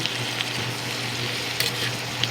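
Ground pork and chayote stirred in a hot pan, a steady close sizzle with faint scraping and a few brief clinks from the utensil against the pan, no voices.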